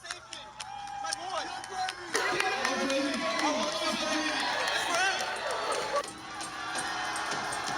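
Crowd murmur and cheering fill a volleyball gym throughout, with scattered shouts and squeaks over a steady broadband roar, while a commentator talks over it.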